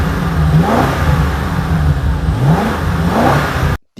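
A BMW F10 M5 with a 4.4-litre twin-turbo V8 revs up and down close by, loud and continuous with two rising sweeps, then cuts off abruptly near the end.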